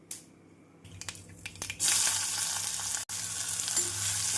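A few light clinks and crackles, then a loud, steady sizzle takes over as chopped onions are dropped into hot oil with mustard seeds and cumin, frying continuously.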